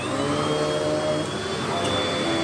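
A Russell Hobbs Athena Pet swivel upright vacuum cleaner runs with a steady, loud motor whine and airflow roar, nearby and continuous, with slight shifts in pitch as it moves.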